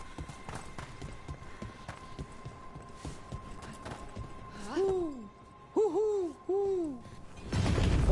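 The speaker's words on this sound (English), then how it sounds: "Another owl." An owl hoots in the video game Dragon Age: The Veilguard near old aqueducts, calling several times in clear falling hoots over a steady ambient hum with faint footsteps, and a burst of noise at the end.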